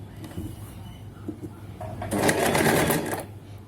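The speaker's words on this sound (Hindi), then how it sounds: "उसके बाद एक बार इस पर मशीन मतलब कि सिलाई आप चला दीजिए।" A sewing machine stitches salwar fabric, starting with a few light clicks and handling sounds, then a rapid close mechanical whirr of stitching runs for over a second before stopping.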